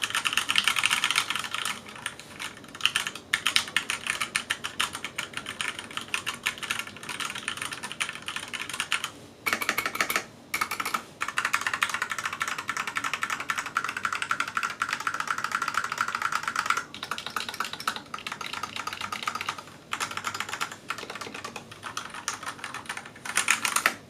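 Rapid typing on a Ghost K1 keyboard, with dense, continuous key clicks and clatter, close up and steady, with brief pauses.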